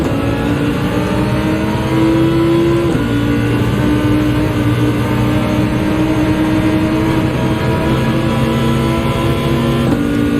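Race car engines in Gran Turismo 7 during a Nürburgring race drone loudly and continuously, with the pitch holding steady and shifting slightly as gears change.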